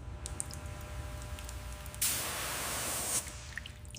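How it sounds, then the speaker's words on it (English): A low-pressure water rinse sprays onto a rusted Grumman AF Guardian aircraft wreck caked with forest mud, giving a steady hiss that swells for about a second over soft background noise, with faint clicks and drips around it. "Low-pressure rinse to loosen caked forest mud without damaging fragile rust layers."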